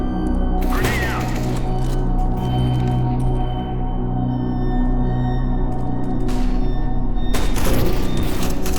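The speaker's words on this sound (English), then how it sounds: "Grenade out." Grenade blasts in the CS:GO video game: a few sharp, booming bursts over a busy, constant game-audio backdrop, one early and two close together near the end.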